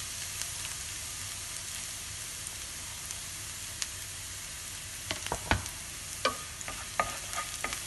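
Chopped garlic sautéing in hot oil for a tomato-and-egg stir-fry, a steady close sizzle with scattered spatula scrapes and taps clustering toward the end, no voices.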